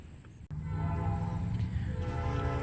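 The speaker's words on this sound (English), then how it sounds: "Sorry about the train in the background." A train rumbles past in the background near an old boarded-up school, a steady low roar with a sustained horn-like tone holding throughout after a brief dip at the start.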